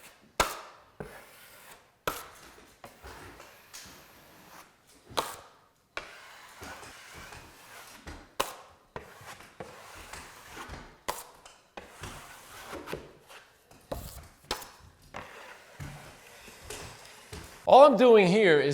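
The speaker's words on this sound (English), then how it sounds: "All I'm doing here is trying to embed the tape nice and tight into the compound." A 6-inch taping knife presses drywall tape into joint compound on a ceiling, making a series of short scraping strokes and soft taps that come and go irregularly, close and fairly quiet, with a brief burst of other noise at the end.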